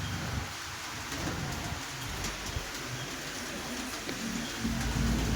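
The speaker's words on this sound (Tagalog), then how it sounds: "So, medyo maulan pa." Steady rain with thunder during a downpour, a constant close hiss of falling drops with low rumbling swells underneath, continuous throughout.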